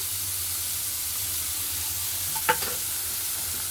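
Ginger-garlic paste dropped into a pan of frying prawns for a Bengali jackfruit-and-prawn curry, giving a steady oil sizzle with one brief clatter of stirring near the middle.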